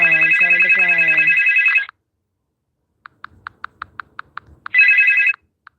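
A phone's electronic ringtone for an incoming call plays loudly as a voice speaks over its start. After a pause, a string of light taps sounds on the screen, then the ringing returns briefly and cuts off abruptly as the call is declined.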